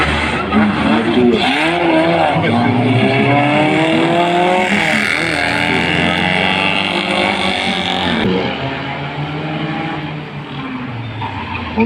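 A small Cooper race car slides and squeals its tires around a street circuit, its engine loud and close for the whole stretch while a commentator talks over it.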